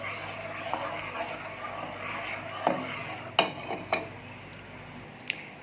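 Soy milk being stirred in a pot over high heat for homemade tofu, a soft, low swishing broken by a few sharp clinks of a utensil against the pot.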